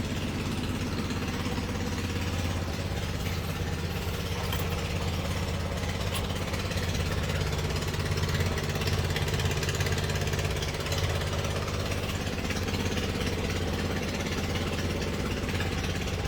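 A Kawasaki Kaze Super SK120 motorcycle engine runs steadily at close range, a continuous low mechanical rumble with slight swells in level, heard alone without talk.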